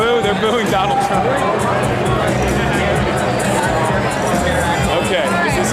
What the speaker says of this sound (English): Boo, they're booing Donald Trump.